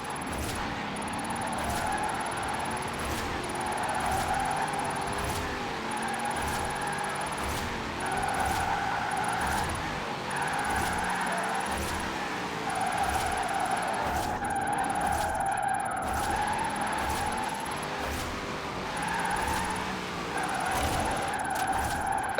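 A Formula Drift car with extreme steering angle slides through switchbacks in Forza Horizon 4, engine revving and bouncing off the limiter while tyres screech in long, repeated skids, loud and continuous throughout.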